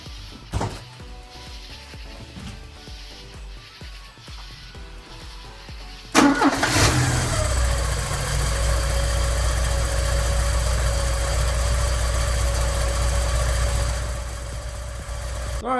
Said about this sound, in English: we have the engine back together and we're getting ready to fire it up for the first time